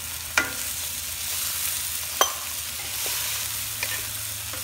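Pork belly fries in a pan with a constant close, crackling sizzle, broken by a few sharp scrapes and clicks of a utensil stirring it.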